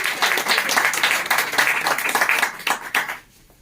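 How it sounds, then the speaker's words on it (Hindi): A seminar audience bursts into loud applause for the speaker's mentors, a dense burst of close hand clapping that runs for about three seconds before stopping abruptly. "सबसे पहले मैं मेरे गुरुओं के लिए ताली चाहूंगा"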